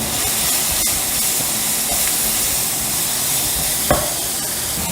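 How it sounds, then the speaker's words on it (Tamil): Loud, steady sizzling and hissing of chopped onions frying in hot ghee, with a brief scrape of stirring near the end. "அடுத்தது பொடியாக நறுக்கின வெங்காயம் சேர்த்துக்கலாம்."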